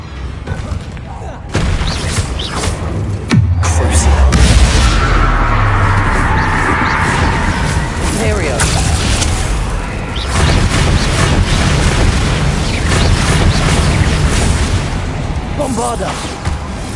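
Explosive Bombarda and Confringo spells in the video game Hogwarts Legacy, heavy loud booms and crashing blasts in rapid succession, with combat noise and a voice calling out between the impacts.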